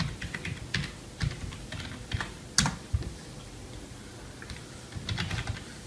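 Fingers tap out a login on a computer keyboard for a Raspberry Pi board, a quiet, close run of irregular key clicks with a few sharper strikes and short pauses.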